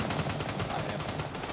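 Rapid automatic gunfire in the shooter game Gray Zone Warfare, a steady stream of evenly spaced shots sustained throughout at moderate distance.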